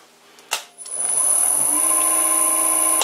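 A reamer cutting through metal while chuck wedges are made: a short clunk, then a loud, steady, high-pitched machine whine that holds for about two seconds at close range, with no talking.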